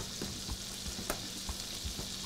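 Salmon fillet frying skin-side down in butter in a pan, a steady close sizzle with a few soft pops and light scrapes, no talking.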